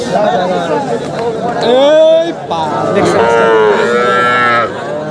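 Cattle low repeatedly at a crowded livestock market selling small bulls, heifers and calves, several drawn-out moos rising and falling close by, with people talking and market chatter underneath.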